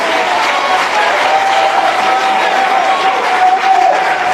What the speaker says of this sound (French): Je veux qu'on applaudisse le professeur Noumbouya Seti.